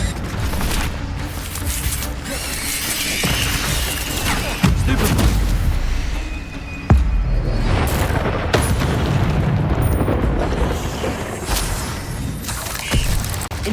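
Incendio fire spell bursts in the video game Hogwarts Legacy, several booming whooshes and crackling blasts over a dense, noisy background of combat effects, loud and close.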